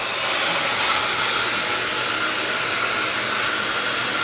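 A MonoMono Dreamworld hair dryer runs steadily throughout, a loud, even broadband whoosh with a faint high whine and no break or change in speed, heard alone without talk.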